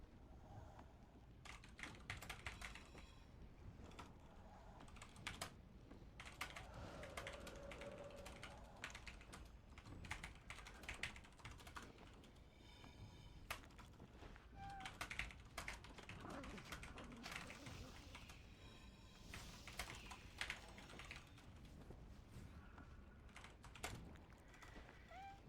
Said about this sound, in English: You guys can make fun of me for typing.